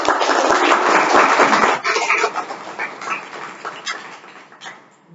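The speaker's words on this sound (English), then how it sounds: "Another round of applause to Toastmasters." Round of applause at a Toastmasters meeting, dense clapping from a room audience that starts loud and thins out after a couple of seconds into scattered claps, with some voices mixed in.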